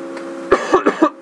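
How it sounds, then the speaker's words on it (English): A quick series of four or five close, throaty coughs in rapid succession, loud and near, after a brief low hum. "Make sure I get the coughs out of me this time."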